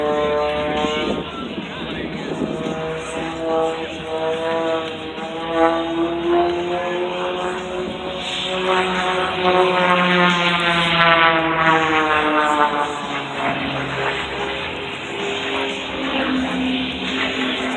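A Beechcraft B200 twin-turboprop LifeFlight medical airplane runs its propellers nearby at an airport, giving a steady droning roar with a rising and falling whine. The sound swells in the middle, and no voices are heard.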